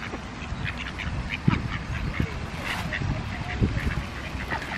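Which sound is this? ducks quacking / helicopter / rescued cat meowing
ducks quacking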